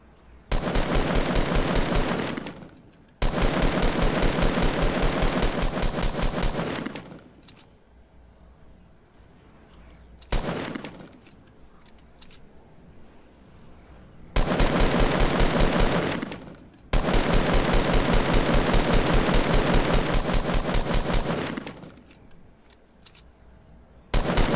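Automatic weapon fire in Fortnite Battle Royale, loud rapid bursts several seconds long, separated by short quiet gaps and a couple of single shots.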